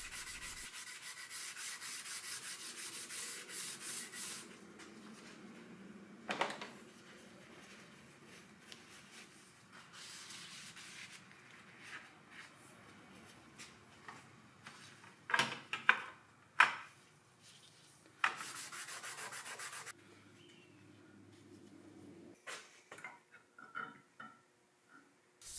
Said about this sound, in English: Here I'm just taking some acetone and Scotch-Brite and cleaning